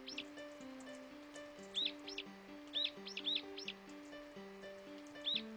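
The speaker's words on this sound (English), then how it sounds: "Where's that damn bird?" A bird chirps in the puzzle game The White Room, sharp high tweets coming in short bursts of two or three over a looping synth melody, clear and fairly close.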